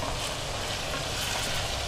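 Chicken fries in a wok over a high-pressure stove, giving a dense, steady, loud sizzle and hiss with no breaks and no talking.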